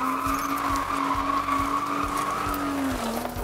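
A cab-style street car brakes hard with a loud, sustained tire screech holding steady throughout, close and continuous, with a repeating low thumping underneath.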